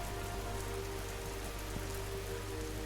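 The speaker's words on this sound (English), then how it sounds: "I love the sound of the rain." Steady rain falls in the video game Schedule I, a dense continuous patter on surfaces with a faint low hum beneath and no talking.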